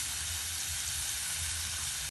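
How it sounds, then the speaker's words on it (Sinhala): Dried chilies frying in hot oil in a pan give a steady, dense sizzle and hiss close up, holding even throughout and cutting off abruptly at the end. "මිරිස් පර කීපයක් අපිට මේකටම දාලා බැද ගන්න පුළුවන්"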